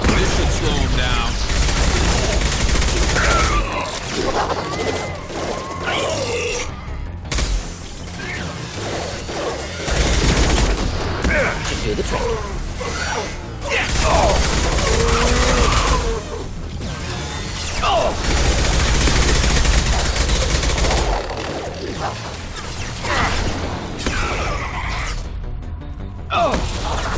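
Heavy gunfire in Mass Effect 2, loud sustained bursts of rapid shots and mechanical clatter rolling on for nearly half a minute, with voices talking over the fighting.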